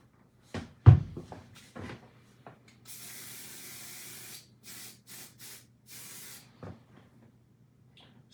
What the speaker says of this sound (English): then we give it just a touch of spray